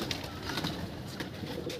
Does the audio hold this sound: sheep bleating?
no